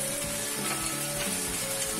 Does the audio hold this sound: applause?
no